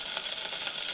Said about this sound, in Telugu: స్టవ్ మీద బాగా పెట్టుకుని వెన్న వేసాను.